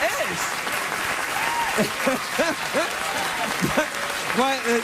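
Studio audience applause at a late-night talk show taping, steady dense clapping throughout with a voice speaking over it.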